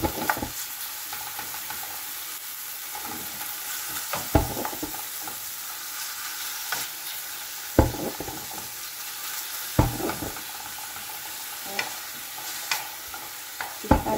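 Ground pork frying in a pan and being stirred, continuous loud sizzle with periodic sharp scrapes and knocks of a spatula, close up with no talk.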